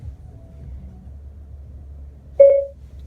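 A single short electronic activation beep from the voice recognition button on a 2017 Chrysler Pacifica steering wheel, clear over a low cabin rumble, with nothing else around it.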